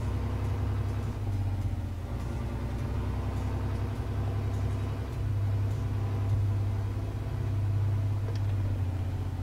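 Deutz tractor engine in Farming Simulator 19 labouring steadily while stuck, a loud continuous low rumbling drone with small surges, alone without talk.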